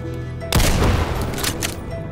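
Gunfire and exploding fire barrels in Doom with Project Brutality: a sudden loud boom breaks in after a low hum, then a crackling, rumbling burst with rapid shots rings out and fades.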